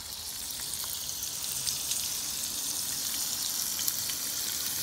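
Dinner cooking over a campfire at a campsite, a faint steady sizzle and crackle with light popping, fairly quiet and continuous, no voices.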